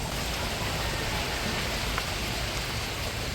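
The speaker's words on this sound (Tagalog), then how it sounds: "Kaya po pala magdamag ang ulan at hangin." Heavy, steady typhoon rain pours down with a constant dense hiss, wind blended into the roar, unbroken throughout.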